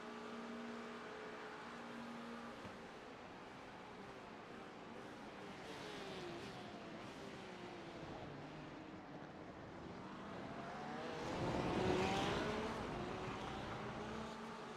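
GT3 race cars on the Monza circuit in the iRacing sim whine steadily at a distance, engine notes sweeping up and down, with one car swelling louder as it passes near the end.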